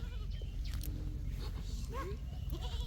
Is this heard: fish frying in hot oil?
no